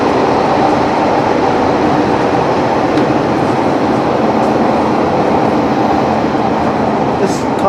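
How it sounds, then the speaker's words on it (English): A passenger train running toward Caerphilly in South Wales, on a service continuing to Bargoed, produces a loud, steady onboard rumble and rattle of wheels on track that fills the whole stretch without a break. "On our way to Caerphilly, this train continues to Bargoed."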